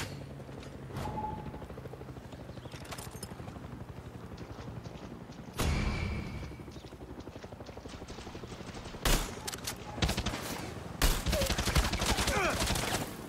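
Gunfire from a big gun in Far Cry 6 with a helicopter nearby, sharp loud bursts and single heavy shots over a constant rotor-like mechanical rumble, several blasts clustered toward the end.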